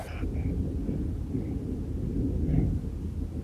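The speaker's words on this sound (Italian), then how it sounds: "E questi tuoni non promettono bene" Low rolling thunder rumbles steadily through the whole stretch, muffled and fairly distant, a continuous deep growl without a sharp crack, heard outdoors in Japan.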